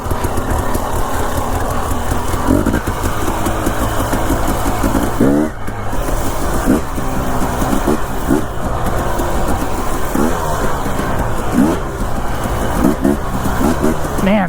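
A dirt bike engine with a leaky carburetor runs loud and close, idling with a buzzy rattle and snapping up in repeated quick off-idle revs throughout, under occasional voice.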